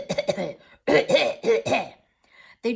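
A woman reading aloud imitates a cough several times with her voice, producing a few short, rough bursts of sound that are close and fairly loud, separated by brief pauses.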